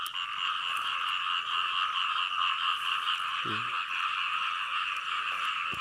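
Frogs croak near a rice-paddy canal during frog catching by hand, a steady, dense, buzzing chorus with one short, close croak partway through.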